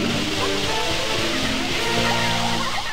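A steady, rushing wash of water in the video game Pikmin 2, loud and continuous like a stream or small waterfall, with faint game tones layered over it.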